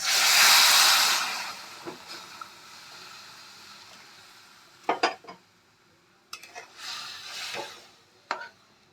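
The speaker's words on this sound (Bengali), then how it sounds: "আমি উষ্ণ গরম জল অ্যাড করব" Warm water is poured into chicken kofta curry masala in a pan, giving a loud hissing splash at first, followed by quieter clinks and scrapes of a utensil against the pan.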